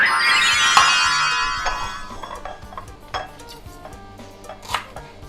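Sharp knife strikes on a board as coriander root is chopped, irregular and close, with a few louder chops standing out over faint kitchen clatter.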